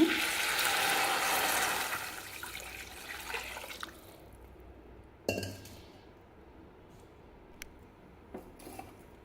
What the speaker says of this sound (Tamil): இப்போ தண்ணி சேர்த்துக்கலாங்க ஒரு டம்ளர் ரவைக்கு நாலு டம்ளர் சேர்த்துக்கிறேங்க